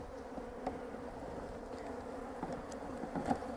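Honeybees buzz steadily inside an opened hive, nurse bees in a colony during queen replacement, a continuous low drone with a few brief louder swells, close and alone.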